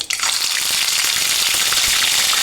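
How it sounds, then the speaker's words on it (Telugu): Ginger garlic paste, about a spoonful, hits hot oil for a chicken curry and sizzles loudly and steadily with dense spattering throughout, cutting off abruptly at the very end, with no talking. "ఆయిల్ అనేది హీట్ ఎక్కింది. జింజర్ గార్లిక్ పేస్ట్ వేస్తున్నాను ఒక స్పూను."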